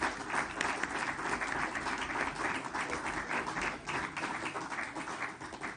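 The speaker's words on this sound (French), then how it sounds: "Je constate par vos applaudissements" Sustained applause from a large crowd at a plenary assembly session, steady and even throughout, with no talking over it.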